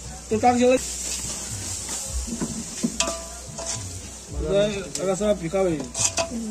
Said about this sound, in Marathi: मित्रांनो 3 किलो मटन आता टाकलं टोपामध्ये